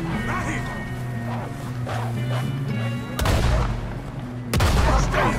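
Shotgun blasts ring out in a Red Dead Redemption 2 gunfight, two heavy booms landing a second apart over steady game ambience, music and voices throughout.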